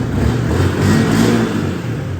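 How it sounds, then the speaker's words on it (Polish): A 2014 Yamaha YZF-R125 125cc motorcycle engine with stock exhaust runs steadily and close, a buzzing mid-pitched drone that swells slightly in the middle, with no talking. "Oczywiście to jest dźwięk motocykla na fabrycznym tumiku."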